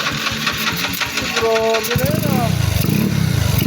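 A motorcycle engine starts and revs, its rising buzzing note building into a loud, pulsing idle while people talk close by.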